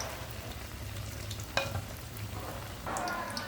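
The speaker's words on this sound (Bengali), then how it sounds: "আবারও ভেজে নিব।" Batter-coated egg pitha frying in hot oil, a steady close sizzle and crackle with one sharp tap near the middle and a louder burst of sizzling toward the end.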